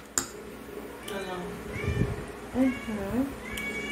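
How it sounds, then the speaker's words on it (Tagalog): Several hungry cats meow repeatedly in rising and falling cries, fairly close, with a person talking faintly underneath. "Gutom na yung mga pusa."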